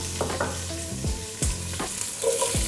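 Fennel seeds and onion sizzle in a hot pan over fairly high heat for a soup, with several distinct stirring scrapes and clatters over the steady frying hiss.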